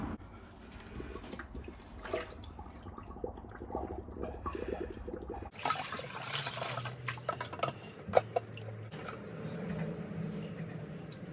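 Water sloshes and splashes in a bucket of cold water at close range, with irregular dips and swirls and small clinks throughout, quiet and without voices.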